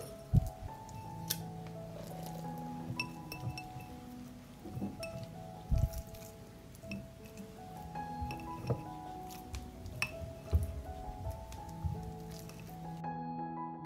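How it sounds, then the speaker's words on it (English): Meat is packed into glass jars, with soft squishing, scraping and occasional light clinks of glass, faint and close, in irregular bursts. "I will fill the jars with meat."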